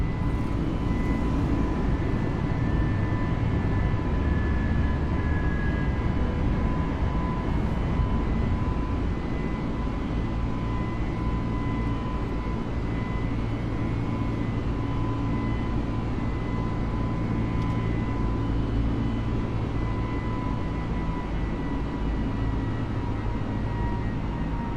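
Airliner engines at takeoff power in a flight simulator: a steady, loud roar with a constant whine running under it for the whole stretch, with no breaks.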